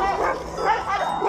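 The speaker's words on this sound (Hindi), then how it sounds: "ये देख लो गाइस, जो जो भाई पिल्लों से खेल रहा है यहाँ पे आगे।" Puppies yipping and barking in short, high excited bursts, close by, with a person talking over them.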